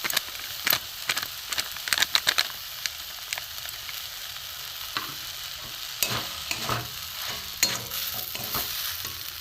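Carrot kheer with milk powder is stirred in a pan, a gentle sizzle running underneath while a spoon scrapes and taps the pan in irregular bursts, some sharp clicks and brief scraping strokes standing out close by.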